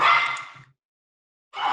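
A dog barks twice nearby, each a loud, full bark separated by a short silence, with no other sound around them.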